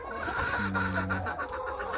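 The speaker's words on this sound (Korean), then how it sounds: "달걀을 먹기 위해서 이제 기르고 있는 닭들인데요" Backyard chickens kept at a countryside home for eggs cluck in short bursts, with one drawn-out call standing out midway and soft farmyard ambience around them.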